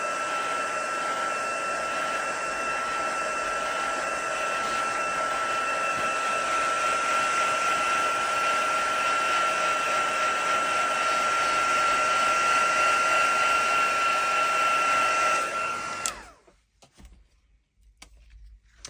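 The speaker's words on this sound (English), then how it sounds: "just waft it gently with your heat gun" A heat gun blows steadily on a handmade floral card to dry it, a loud constant whirring hiss with a thin whine that holds for about sixteen seconds before cutting off to near silence.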